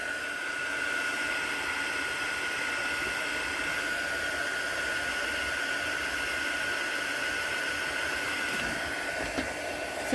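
A hair dryer blows continuously over watercolor paint on a mixed media piece, a steady close whooshing hum with a high whine, unbroken for the whole stretch with no talking.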